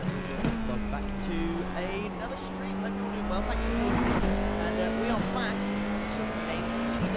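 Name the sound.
Formula 4 race car engine at Fuji Speedway, iRacing video game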